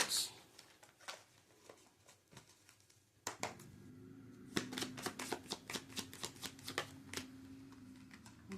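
Tarot cards being shuffled by hand, a soft papery riffle that sharpens after a few seconds into a rapid run of crisp flicks and snaps, close and alone with no talk.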